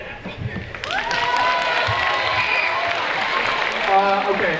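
Audience at a school community meeting clapping after a club announcement; a moderately loud burst of applause with a few cheers and voices mixed in.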